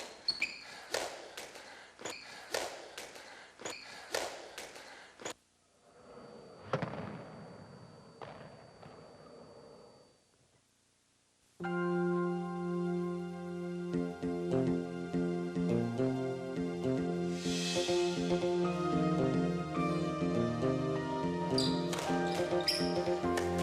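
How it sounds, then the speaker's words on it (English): A hardball squash ball is struck hard in a court, giving several sharp cracks and bounces during a reverse corner shot off the side wall and then the front wall. A stretch of music follows. "What I'm trying to do there is hit the side wall and then the front wall"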